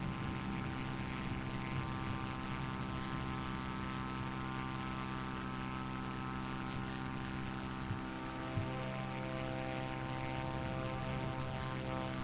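Steady propeller engine drone from a light airplane in Microsoft Flight Simulator 2024, a constant loud hum with layered harmonic tones running unbroken throughout, no voices over it.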